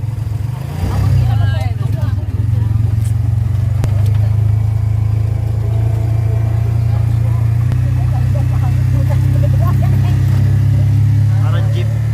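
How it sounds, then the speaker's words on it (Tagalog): Motorized tricycle engine running while riding in Cagayan de Oro, a loud, steady low drone with rattling clatter throughout, heard from on board, with people talking over it. "Yan, nandito na naman kami sa kanilang tricycle."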